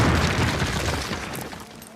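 A grenade explosion in Call of Duty at a training camp, a loud, deep boom with a rumbling tail that fades over two seconds.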